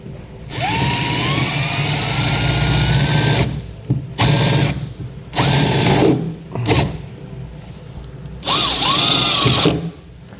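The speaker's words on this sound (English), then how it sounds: "And then I'll get a screw started." A power drill drives a screw during wiring harness installation on a 2015 Ford F-350, in several loud whirring bursts that rise in pitch, separated by short pauses and a few brief clicks.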